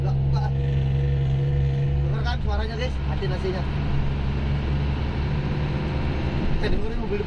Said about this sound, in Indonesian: kita dengerin mobil depan nih suaranya